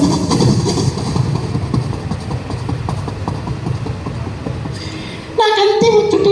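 A voice imitates a train, making a rhythmic chugging that runs steadily along, then ends with a sharp whistle-like tone.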